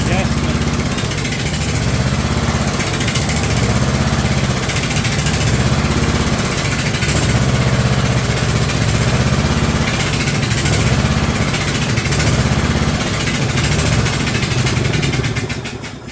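A Snapper rear engine riding mower's small engine surges at idle, its loud, close running rising and falling in a regular rhythm of roughly two-second swells, dying away at the end.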